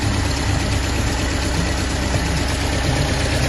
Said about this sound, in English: The MG MGB engine, 1800, running beautiful.